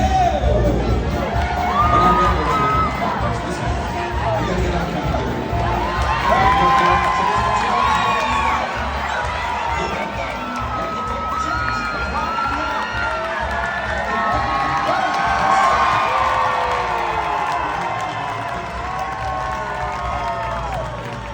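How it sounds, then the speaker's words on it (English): A crowd at the Dixie Stampede chicken chase cheers and shouts continuously, children's excited yells mixing with applause and babble in a loud, sustained arena roar. "All right, folks, get ready to cheer on your chicken chasers."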